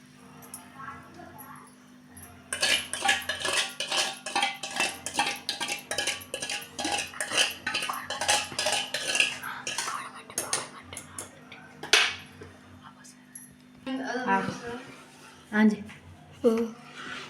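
A blended mixture is stirred into sugar syrup in a pan over a low flame, with rapid rhythmic scraping and clinking of a spoon against the pan as someone talks throughout.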